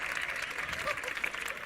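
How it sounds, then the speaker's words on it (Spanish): A short burst of clapping from an audience at a live interview event in Málaga, steady and fairly loud, with no one speaking over it. "pues un aplauso más para Antonio Escotado."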